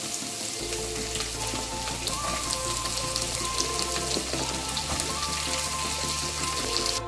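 Chopped onions fry in hot oil until golden for a Kerala-style paneer masala, giving a steady, close crackling sizzle with scattered pops and a constant low background hum.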